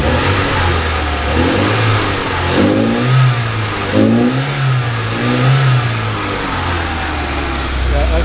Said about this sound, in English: Alright, so it's running, yay! I think it'll even rev now too.